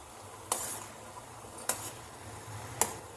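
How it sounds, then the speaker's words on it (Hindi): A bajra laddoo mixture is stirred in a steel pot, three sharp scraping clanks of a spoon against the metal about a second apart over a soft, low background. "इसको भी चलाते रहिएगा, नहीं तो ये स्टील का भगोना है, नीचे लग भी सकता है"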